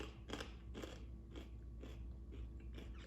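Crunchy sweet and savory Seedai rolled snacks being bitten and chewed, giving a steady series of about seven crisp, crackly crunches close up with no talking.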